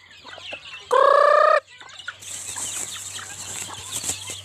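Chicken in a rural yard letting out one loud, drawn-out squawk near the start, followed by quieter clucks and scuffling against a steady background hum.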